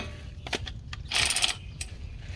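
A hand ratchet tightening the hub bolts on a Ford Edge during an axle seal replacement gives a few sharp mechanical clicks and then a short, fast burst of rapid ratcheting, close and alone.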